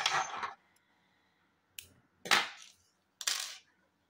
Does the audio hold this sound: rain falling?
no